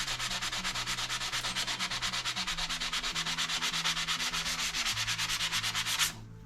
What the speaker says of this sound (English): You can finish it with the sandpaper, just like this.